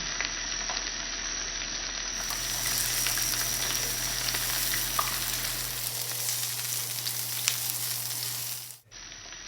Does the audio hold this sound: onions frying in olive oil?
yes